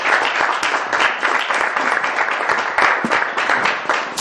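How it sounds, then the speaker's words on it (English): Audience applause for a county supervisor being introduced at a community speaking event: dense, steady clapping from a crowd, close and full, holding at an even level for several seconds with no voices over it. "Round of applause."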